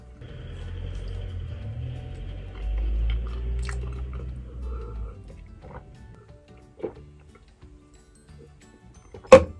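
Close chewing of food after a workout, with soft wet mastication and a low rumble, followed by a few sharp crunchy clicks toward the end in an otherwise quiet room.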